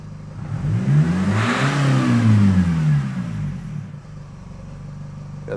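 Nissan X-Trail engine, remapped with EGR and DPF deleted, revving up to around 3000 RPM with a rising, rumbling drone that peaks, then stumbles and misfires as it drops back to a rough idle, close and loud.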